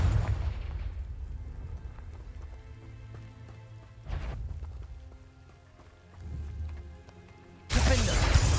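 Confringo blasting spells fired in the Hogwarts Legacy video game, bursting as a few loud, broad explosive blasts amid a rumbling battle, with the biggest boom at the end.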